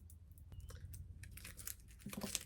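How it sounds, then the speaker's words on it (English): A wrapped portion of a tarot card deck is torn open, with close, quiet crinkling and tearing of packaging, scattered rustles and small crackles. "I'm going to open up this other portion of the deck"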